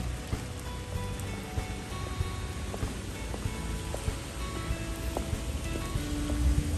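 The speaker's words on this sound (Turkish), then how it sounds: "Yağmurun sesini bak." Steady summer rain patters on surfaces among lemon trees, a soft continuous hiss with occasional distinct drips, no voices.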